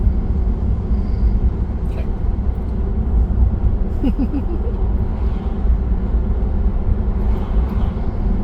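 A Tesla Model 3 accelerates in Full Self-Driving mode, heard from inside the cabin as a steady low road and motor rumble that stays even and continuous throughout.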